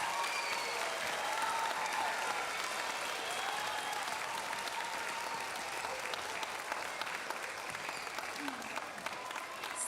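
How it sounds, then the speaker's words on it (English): Sustained audience applause at a children's book award presentation honoring the authors, steady and fairly distant, filling the hall for about ten seconds without talk. "can we give a round of applause to our wonderful authors?"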